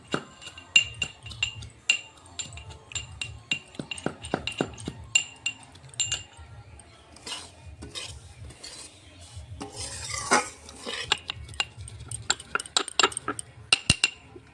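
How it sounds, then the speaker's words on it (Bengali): Roasted peanuts being pounded by hand, a run of sharp, irregular knocks and clinks that come close together in bursts across the whole stretch, with quieter pauses between, no talk. "আমি ভেজে রাখা বাদামটা কুটে নেব"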